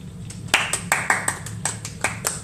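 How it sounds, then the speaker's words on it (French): Scattered applause from a small crowd at a concert inside a video game: a dozen or so distinct claps spaced irregularly over a couple of seconds, fairly close and moderately loud, with no clear talk. "Ça applaudit."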